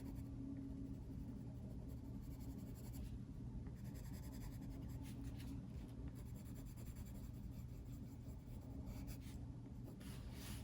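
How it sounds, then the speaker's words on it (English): Prismacolor colored pencil shading across cold-press watercolour paper gives a soft, continuous scratchy rubbing, faint and close, running steadily without pause and with no talk. "now I'm going to use my Prismacolor colored pencils"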